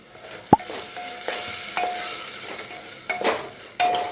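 Garam masala, turmeric, coriander and chilli powder being stirred into a pan for mushroom biryani, with a soft sizzle under scraping spoon strokes and an occasional clink of metal, no voices.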